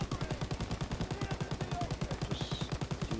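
An MG42 machine gun fires in Call of Duty WWII as one long sustained burst of very rapid, evenly spaced shots. The rattle is continuous and moderately loud with no pauses.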